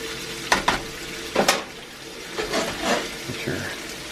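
Butter sizzles and spatters in a frying pan for grilled cheese, with a few scraping stir strokes and soft bursts of crackle over a steady hiss.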